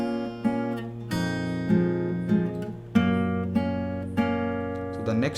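Fingerstyle guitar plays a song, with plucked bass notes and melody notes ringing together in a slow, steady pattern of sustained chords, clear and close with no voices.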